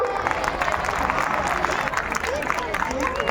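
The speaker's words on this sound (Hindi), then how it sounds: "कर्टेन उठाने के लिए तालियां" An audience at a school performance claps as the curtain rises, a loud continuous wash of applause mixed with crowd chatter and excited voices.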